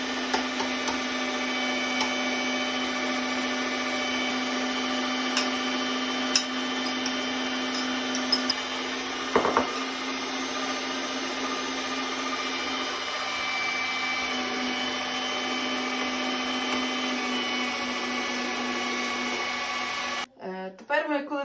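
An electric meat grinder mincing fried onion for an autoclave pâté, after meat was ground: a steady, close motor whine with a constant hum and occasional clicks, running continuously until it stops at the end.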